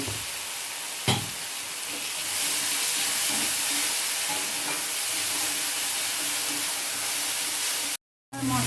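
Spice paste frying in oil for a lentil bada curry, a dense steady sizzle close up with a faint stirring scrape, running unbroken apart from a brief gap near the end.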